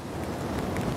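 Strong wind and light rain during Typhoon Hinnamnor on the Korean coast, a steady, dense rushing noise with scattered raindrop patter, close and continuous with no voices.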